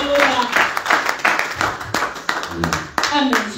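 A church congregation claps and cheers in acclamation, broad rhythmic applause mixed with shouting voices, loud and close throughout.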